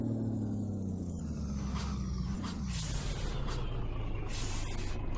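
Air brakes hiss on a Mercedes Atego 2426 truck carrying onions in a driving video game played on a steering wheel, sharp bursts of released air over a steady, loud diesel engine drone with no talk.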